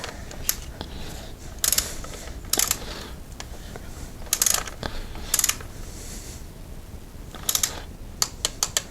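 A ratchet tightens an ignition coil bolt on a Hyundai Accent, with bursts of quick, close clicking in short groups separated by pauses against a quiet background.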